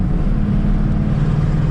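A car engine fitted with a fairly new carburetor idles in a steady, low rumbling drone, close and continuous with no talk over it.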